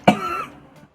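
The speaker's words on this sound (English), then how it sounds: "are just joke coughs, I promise." A single forced, fake cough with a short throaty rasp that trails off quickly, close to the microphone, with no talking, during a Forza Horizon 4 racing game session.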